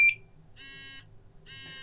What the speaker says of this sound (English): It's doing its test cycle.